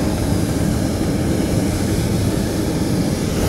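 A hot air balloon takes off at Fontainebleau, its burner roaring as a steady, loud, dense rush that holds unbroken throughout, with no talk.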